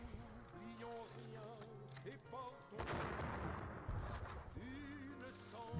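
Cannon fire from a John Tiller Napoleonic battle game, a burst of booming artillery rumbling for a few seconds, framed by musical tones before and after.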